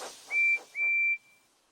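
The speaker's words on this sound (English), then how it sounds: "Now, Percy's whistle sounds very loud." Percy the tank engine's steam whistle from Thomas and Friends sounds two loud, clear blasts close by. The first is short and the second longer, over a faint hiss of steam, with no talking.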